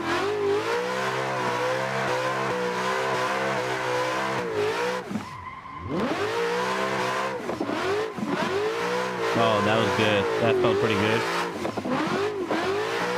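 Simulated Mustang V6 from the BDC V6 car pack drifting around a backwoods track in Assetto Corsa: a loud, steady engine drone with rising and falling revs and tire squeal throughout, one brief lift near the middle, and a short spoken remark.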